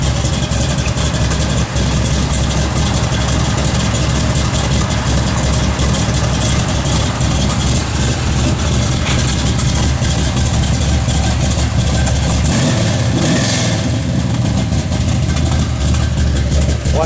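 A 1967 Chevrolet Chevelle V8 idles steadily and loudly up close, a continuous low rumble throughout with a brief swell near the end, while a person talks faintly nearby.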